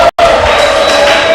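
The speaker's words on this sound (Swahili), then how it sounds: "Mpigieni makofi." Audience at a festival gathering bursts into loud, dense applause and cheering close by, a continuous roar broken by one brief cut.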